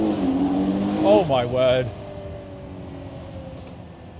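Ferrari supercar engine droning steadily with a brief rising rev and shift, the whole car shuddering, while a man exclaims over it in the first half before the engine settles into a lower hum.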